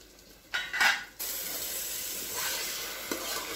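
Spinach and chicken are stirred in a cooker pot for biryani, with metal clinks and scraping at first, then a steady wet sizzle that carries on alone with a few light knocks.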